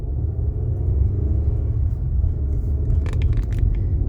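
Car cruising through town, heard as a steady low road and engine rumble from inside the cabin, with a few faint light rattles near the end.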